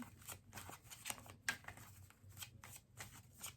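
Tarot cards being shuffled in quick, papery riffles and soft slaps, close up, with no talking.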